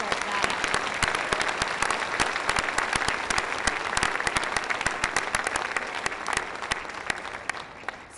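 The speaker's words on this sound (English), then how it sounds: "So how about a round of applause just to start that out." A school board meeting audience applauds students who scored perfect test results, loud sustained clapping with sharp individual claps standing out close by, continuing evenly for several seconds before thinning slightly at the end.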